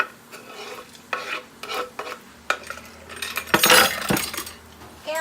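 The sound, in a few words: bacon stirred into rice in pan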